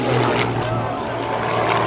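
A propeller aerobatic airplane roars through the back half of an outside loop at an air show open house, a loud continuous engine drone with shifting pitch while an announcer speaks.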